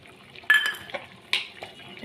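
Boiled spice paste tipped into a pan with clinks and scrapes of a utensil, a couple of sharp wet splashes followed by stirring, close and fairly loud.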